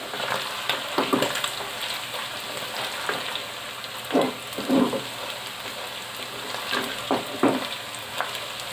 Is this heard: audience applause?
no